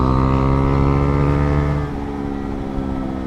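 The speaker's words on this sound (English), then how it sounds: "4th gear accelerating to the top of the rev range and then just letting the bike decelerate" A motorcycle fitted with a LeoVince LV-10 exhaust pulls hard in 4th gear, its loud, steady engine drone climbing toward the top of the rev range, then drops abruptly into a rougher, lower decelerating burble.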